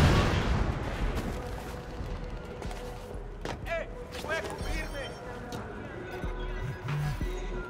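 Gunfire in the video game Watch Dogs 2: scattered shots and booming blasts sound over a busy game mix, moderately loud, with someone talking over part of it.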